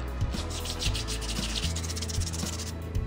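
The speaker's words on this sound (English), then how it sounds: "I'll also sand the back of the base plate." Hand sanding a drone base plate, a close, continuous rasping rub with quick repeated back-and-forth strokes.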